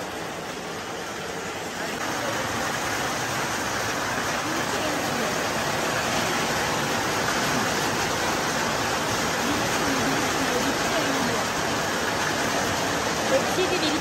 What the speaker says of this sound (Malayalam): ഭയങ്കര മഴ, മഴ പെയ്യുന്നു.